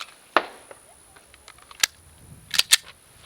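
Handgun being dry-fired during a grip, stance and trigger control drill, a few sharp isolated clicks and snaps spaced unevenly over a few seconds, close and fairly faint.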